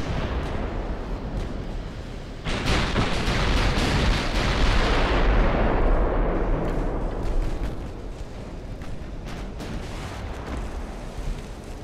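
Naval artillery from the video game Ultimate Admiral: Dreadnoughts, with a heavy rumbling barrage of shell fire and impacts that swells loud after a couple of seconds, then slowly eases into a continuous lower roar.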